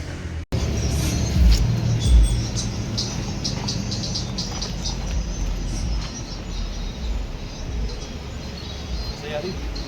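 A Bajaj Pulsar 150 motorcycle, with freshly replaced clutch plates and both spark plugs, on a test ride. It gives a steady, close, broadband engine and road rumble that runs almost the whole time, broken only by a brief dropout near the start.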